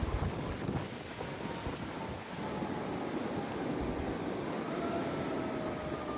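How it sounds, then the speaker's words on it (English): Wind gusts and buffets the microphone during a New England blizzard in Connecticut, a steady broad roar with low rumbling surges, heard outdoors with no speech. "There's the wind."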